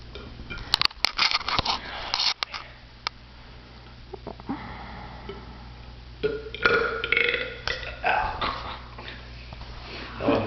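Several loud, close burps erupt during a burping contest at home, spaced irregularly over the span, with sniffing and small noises between them and no clear speech.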